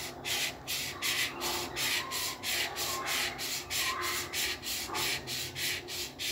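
A chamfer is cut along the edge of a wooden razor with steady back-and-forth rasping strokes, rhythmic and close, with no voices.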